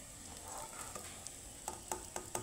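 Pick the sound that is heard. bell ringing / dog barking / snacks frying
snacks frying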